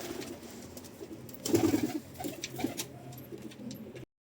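Several pigeons released from a coop coo nearby on the ground, soft throaty calls overlapping with some rustling and flutter against a faint outdoor background.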